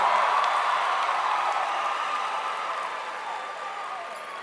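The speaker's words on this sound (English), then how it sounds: "So give yourself a round of applause because we are winners." A graduation audience in Pritchett, Alabama applauds in a broad, steady wash of many hands clapping together, loud and sustained, slowly easing off over several seconds.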